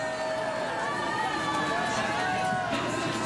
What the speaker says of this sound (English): You can probably hear the crowd there too. They are cheering him.